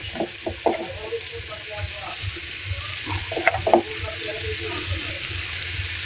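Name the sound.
spice mixture frying and stirred in a pan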